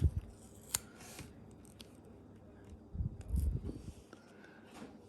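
Scissors cut through an old, dirty sticker from a Mega Bloks Covenant Strike Troop Transport Warthog toy, giving a sharp snip followed by softer scattered crunching and handling noises, close and fairly quiet.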